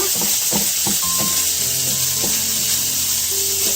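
Finely diced pancetta rendering down until golden, sizzling loudly and steadily in a frying pan, with a few light clinks and scrapes of a utensil near the start.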